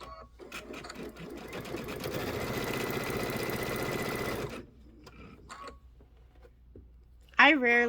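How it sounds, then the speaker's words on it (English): A sewing machine runs steadily at a brisk pace for about four and a half seconds while stitching quilt sections together, then stops, leaving quiet handling noises and a short burst of voice at the end. "I rarely sew at like full speed"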